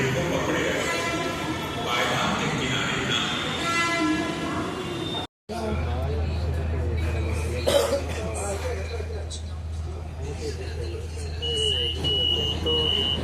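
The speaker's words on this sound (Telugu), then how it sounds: "ఇది మెట్రో ట్రైన్ వస్తుంది" A metro train rumbles in with a low, steady hum and rattling, while people talk and someone coughs nearby.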